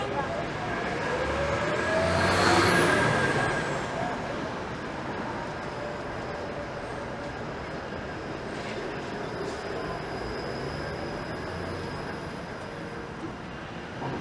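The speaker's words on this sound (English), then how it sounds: "All these Bathurst streetcars are turning onto Queen." Bathurst streetcars turn onto Queen Street in Toronto. Their wheels squeal and rumble at street level in a steady wash of city traffic, with the screech peaking early and then fading.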